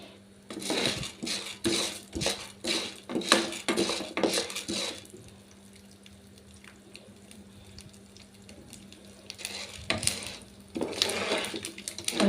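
Metal spoon scraping and clinking against a pan while vermicelli is stirred and roasted, a run of busy, close rhythmic scrapes, a quieter pause, then more stirring near the end.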